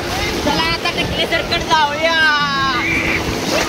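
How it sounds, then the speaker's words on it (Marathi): Sea waves wash in at Revdanda beach near Alibaug, a broad rushing surge close by, mostly covered by excited voices of a group of students shouting and talking in the water. "होय लाट हो."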